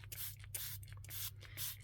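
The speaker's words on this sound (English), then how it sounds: "So I'm just going to spray everything a bit that it's damp." A hand spray bottle mists water onto inked fabric for a grungy junk journal, quick soft hissing pumps repeating in a steady rhythm, close and quiet.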